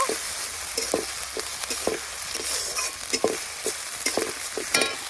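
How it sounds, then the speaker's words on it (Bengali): Spice paste (masala) being stir-fried in a pan at home for a boal fish curry, with constant sizzling close by and repeated rhythmic scrapes of a spatula through the paste. "এখন মশলাটাকে কষিয়ে নিব।"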